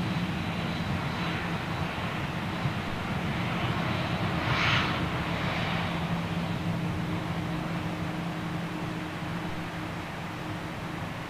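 A TUI Boeing Dreamliner at London Gatwick roars with a steady broadband jet rush that swells slightly midway, heard from a distance and continuous with no talk.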